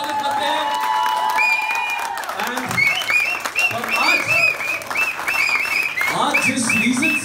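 A studio audience applauds to welcome a singer on a Fever FM radio show, loud clapping with some cheering while a voice speaks over it and tonal music or effects sound in the background.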